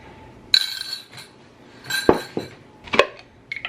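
Uncooked rice and bouillon being mixed in a casserole dish: a few sharp clinks and scrapes of a utensil against the dish, separated by quiet pauses, close and fairly loud.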